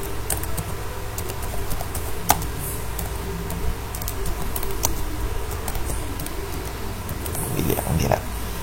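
Scattered clicks of typing on a computer keyboard, light and irregular keystrokes close by with a faint background hum.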